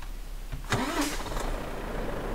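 In the Euro Truck Simulator 2 driving game, a truck engine cranks briefly and then catches into a steady low rumble. It is heard alone, with no talking.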